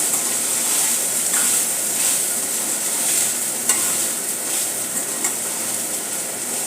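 Soaked sabudana being stirred in a pan for khichdi: a loud, continuous hissing sizzle fills the clip, with a few faint spoon scrapes and taps on top, and no speech.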